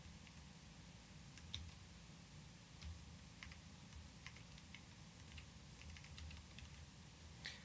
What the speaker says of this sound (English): Sorry, I keep fighting my my new keyboard. I built this keyboard at the three or four months ago.